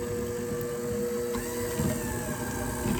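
Electric hand mixer whirring steadily in a bowl of chocolate cake ingredients, a continuous close motor drone with a slight pitch shift midway and no voices.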